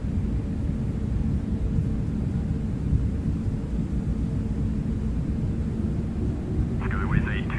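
Steady low broadband roar of an airliner taking off in X-Plane 12, a Toliss A321neo, continuous jet rumble throughout with brief radio chatter near the end.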